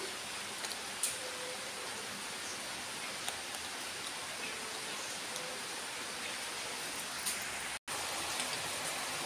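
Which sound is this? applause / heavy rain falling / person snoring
heavy rain falling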